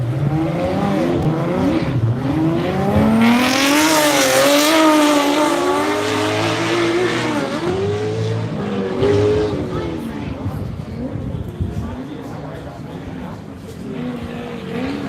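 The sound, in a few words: race truck engine on track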